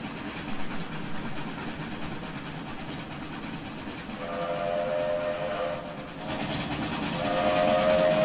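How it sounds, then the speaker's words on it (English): A 2-6-0 steam locomotive in the Trainz 2019 simulator sounds its melodic whistle in two blasts, the second rising and swelling louder, over a steady rumble of the moving train. "it's got a very pleasant sing-songy whistle"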